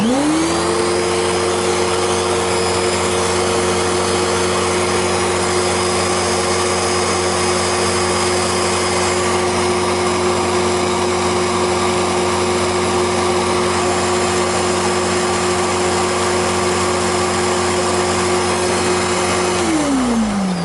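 Simplicity Riccar upright vacuum cleaner, one of the S20, R20, S30, R30, S40 or R40 models, running continuously at close range with a loud steady motor whine and airflow hiss from start to stop, no talking.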